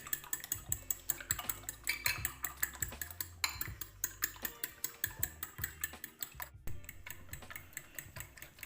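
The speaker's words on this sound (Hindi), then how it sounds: "हमने अंडे को अच्छी तरह फेंट लिया है।" Eggs being whisked in a bowl: a fast, steady run of light clinking taps from the whisk striking the bowl, close and alone, with a brief pause near the end.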